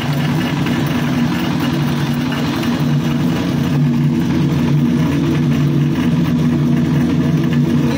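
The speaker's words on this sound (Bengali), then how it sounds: "আমরা পাওয়ার টিলারের সাথে ব্যবহার করছি" A power tiller engine drives a mustard oil press machine, a loud, continuous low diesel-like drone holding a steady hum close by throughout.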